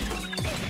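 Big crates smashed apart in a video game area, a short crashing break over a steady low game background hum.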